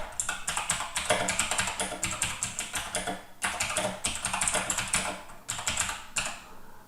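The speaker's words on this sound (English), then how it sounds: "So if I type a sentence like this" Rapid typing on a computer keyboard, close and crisp, with dense bursts of key clicks separated by brief pauses, no voices.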